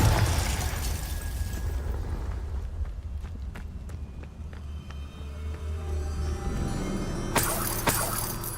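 Confringo blast spell in a Harry Potter video game, a loud booming burst that rolls into sustained rumbling with scattered crackles and thuds, then a fresh explosive surge near the end, with no talk.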